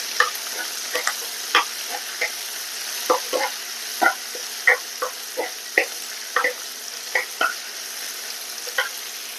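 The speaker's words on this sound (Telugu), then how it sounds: "టమాటా కావాలంటే ఇలా తరుముకుని వేసుకోవచ్చు" Tomato frying and being stirred in a pan for capsicum curry: a steady high sizzle with repeated spoon scrapes and clicks at an uneven rhythm, close and fairly loud, with no talking.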